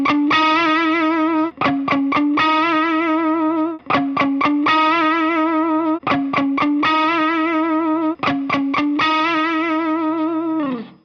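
Electric guitar through a Tube Screamer-style overdrive pedal, playing a repeated sustained chord riff with sharp muted chops between phrases, loud, close and alone with no talk.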